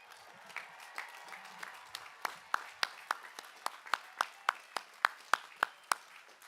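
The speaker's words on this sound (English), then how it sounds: "I think this deserves a round of applause, don't you?" A commencement audience claps for Citrus College graduates, faint crowd clapping that settles into a steady, evenly spaced beat of sharp, distinct claps, several per second, with no talk over it.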